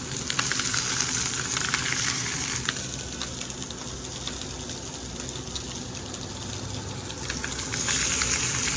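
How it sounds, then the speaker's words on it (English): Striped bass fillet sears in hot butter in a pan, a steady, loud broadband sizzle that runs without a break, swelling slightly near the start and end, with no voices. "Butter's done. Fish goes in."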